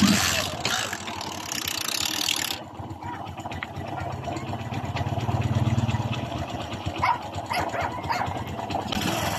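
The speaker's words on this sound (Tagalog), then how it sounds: "may lagotok ang kanyang makina guys" A Kawasaki Bajaj CT 100 motorcycle engine idles with the clutch released, its running note carrying a persistent metallic knocking rattle, recorded up close at a steady level.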